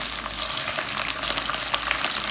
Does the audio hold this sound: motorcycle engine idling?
no